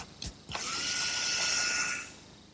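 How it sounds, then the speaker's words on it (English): A power drill bores a screw hole into a cherry rocking chair armrest in a woodworking shop, two quick clicks followed by a rising, steady whine of the bit cutting wood, close and clear, fading at the end. "I'll drill the hole"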